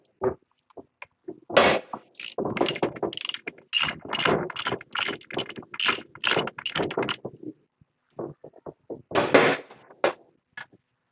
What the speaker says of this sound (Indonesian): Nah, kita kemudian butuh lagi apa? Ratchet. Ratchet. Kita masukkan dulu.